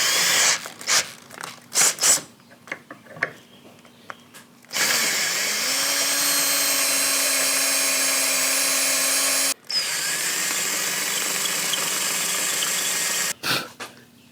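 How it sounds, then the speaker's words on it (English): Power drill boring out holes in metal roof-rack brackets, starting with short bursts and clicks, then a long steady high whine, a brief stop and another sustained run, loud and close with no talk. "But we're just gonna drill these out to be bigger."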